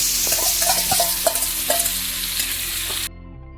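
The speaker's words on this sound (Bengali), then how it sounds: "তেলের উপর দিয়ে ভালো করে ওটা ভাজতে হবে।" Dried lote fish (shutki) sizzles steadily in hot oil while being stirred, with soft scraping clicks of a utensil against the pan, before cutting off abruptly.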